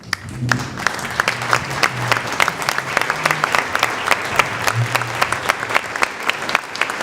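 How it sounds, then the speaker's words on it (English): An Armed Forces Day audience applauds standing retired and active military members, a steady full round of clapping from a large crowd with a few low voices underneath, close and continuous. "give you a round of applause this morning"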